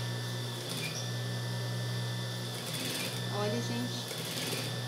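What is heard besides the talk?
sewing machine stitching fabric around a garment's edge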